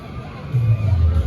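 Crowd noise fills Cedar Point amusement park, a dense mass of distant voices and shouts rising slightly louder partway through, with no single talker standing out.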